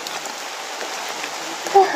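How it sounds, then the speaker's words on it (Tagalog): Heavy rain pours steadily onto surfaces outdoors, a dense, even hiss with close splashing drops, loud and continuous throughout. "sobrang lakas ng ulan talaga"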